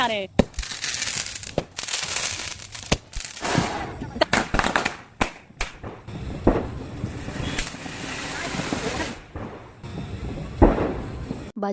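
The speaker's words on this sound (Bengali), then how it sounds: "এই হলো আমাদের বাড়ি বাজে বাজি" Firecrackers burst on Kali Puja day around a home, with sharp scattered bangs and crackling volleys at irregular intervals, some near and loud, others farther off, while a person talks throughout.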